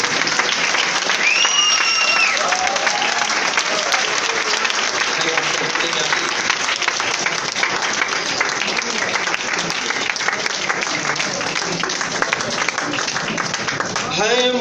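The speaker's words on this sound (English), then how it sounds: "Keep clapping." A crowd at a party and seminar in Mau claps steadily and vigorously for an honoured guest, with voices mixed into the continuous applause.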